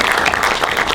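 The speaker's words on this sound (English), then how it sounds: "So a round of applause for Kristen" Brief burst of audience applause at a lighting workshop held at a film studio, dense continuous clapping from a roomful of people.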